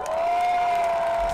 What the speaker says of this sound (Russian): И пусть эти аплодисменты будут хотя бы маленькой, но поддержкой от зрителя.